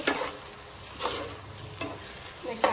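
Onions and green chillies fry in a pan and are stirred, giving a steady close sizzle broken by a few sharper scraping stirs spaced about a second apart.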